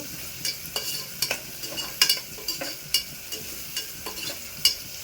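Curry leaves frying in a pan, a soft sizzle underneath repeated sharp clinks and scrapes of a spoon stirring, irregular and close, with no talk.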